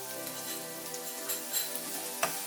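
Vegetables for Indo-Chinese veg fried rice fry on a medium flame, a steady, even sizzle with a few light clicks from stirring.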